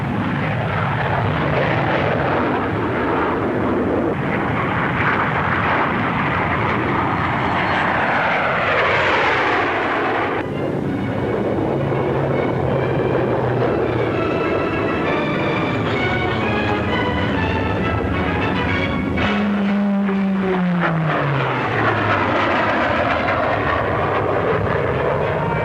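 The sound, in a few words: Supermarine 508 naval jet fighter flying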